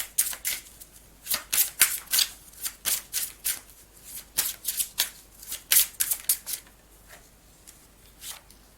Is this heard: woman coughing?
no